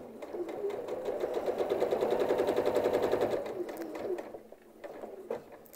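A sewing machine fitted with a walking foot stitches a quilt, running in a steady rapid mechanical chatter that swells through the middle, then slows and stops, with a few faint clicks and quieter handling afterward.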